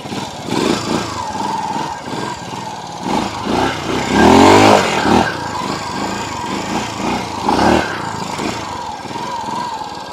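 Honda motocross motorcycle engine, an Eddy Lejeune trials-style bike, revs up and down in loud bursts while being ridden, blipping and surging close by with short throttle pulses.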